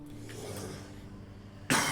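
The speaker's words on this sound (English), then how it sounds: "that was a gross cough" A single harsh cough bursts out loud and close near the end, after a stretch of quiet room noise, during a card game draft.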